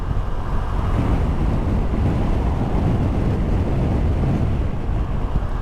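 Steady, loud wind roar buffeting the microphone, a continuous low rumble with no pauses, as heard while riding a Kymco AK 550 scooter at speed, with a north wind blowing.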